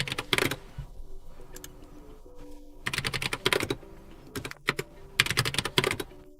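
Fast bursts of clicky typing on a LOFREE Flow Lite low-profile mechanical keyboard, close and crisp, with dense flurries of keystrokes separated by brief pauses.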